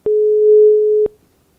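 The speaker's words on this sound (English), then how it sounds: "It's a European dial tone." European telephone dial tone: a single steady tone held for about one second, loud and clean, then cut off abruptly into silence, with no voices.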